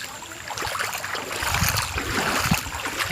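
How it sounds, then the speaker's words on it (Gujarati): Rainwater rushes and gurgles steadily at night after a heavy downpour, a close, continuous watery wash with light splashing and no voices. "ધીમો ધીમો વરસાદ ચાલુ છે"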